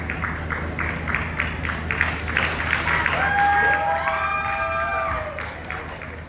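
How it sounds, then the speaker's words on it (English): Crowd applause and cheering at an international festival after a performance of Malaysian songs: sustained clapping from a large audience, with a few whistles and shouts rising near the middle and easing off at the end. "Another big round of applause, everybody, for the beautiful rendition of Malaysian songs"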